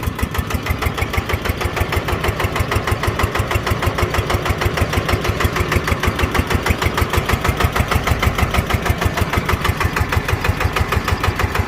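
A single-cylinder engine powering a 10-ton dump truck runs steadily and close, with a loud, even, rapid thumping beat that holds for the whole stretch, no voices.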